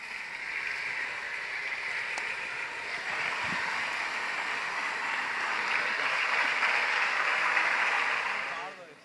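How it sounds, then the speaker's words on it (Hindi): A large hall audience in Bhopal, at a Swami Vivekananda Jayanti event with the Chief Minister, breaks into sustained applause for the launch of a health and wellness education programme. The wash of many hands swells midway, then fades at the end. "जोरदार तालियों के साथ हम स्वागत करते हैं उमंग शिक्षा हेल्थ एंड वेलनेस कार्यक्रम का।"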